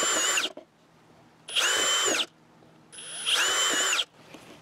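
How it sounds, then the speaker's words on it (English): Power drill boring holes in a wooden bird feeder tray, three separate whirring bursts of about a second each, loud and close, with quiet pauses between. "Okay, now let's get drilling."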